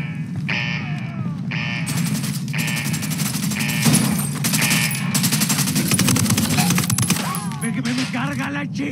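Rapid automatic gunfire in Ghost Recon Wildlands, repeated loud bursts over a constant low rumble, with voices talking beneath the shooting.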